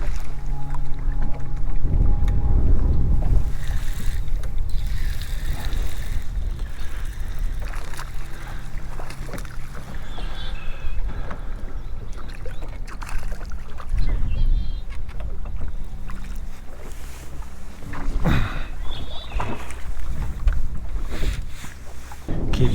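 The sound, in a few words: wind blowing over a fishing boat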